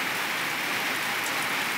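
Light evening rain falls on a farm, a soft continuous patter that stays even and close throughout, with no voices.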